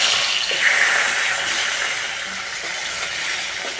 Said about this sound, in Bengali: এবার বাদ বাকি মাছগুলো কিন্তু একইভাবে আমি ভেজে নেব।